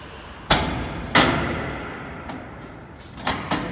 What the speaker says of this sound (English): Go inside and close the door.